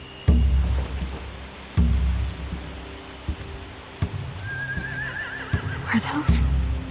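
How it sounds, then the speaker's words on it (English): Horse neighs in The Walking Dead video game, a rising whinny near the middle of the clip, set against dull thumps, faint rain-like hiss and a voice talking. "They have horses."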